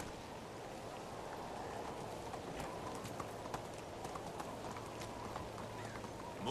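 Horse hooves clip-clop steadily in the Medieval Dynasty video game, a quick even rhythm of light thuds over a soft hiss that resembles rain.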